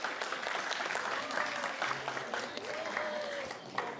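Audience in a room applauding at a guide dog class graduation, a moderately loud spread of many hands clapping with a few scattered voices and cheers mixed in, tapering slightly toward the end.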